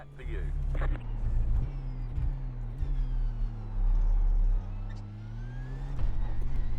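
A Porsche Cup car in a sim racing game drones with a low, steady engine note that rises and falls through gear changes, and someone talks over it throughout.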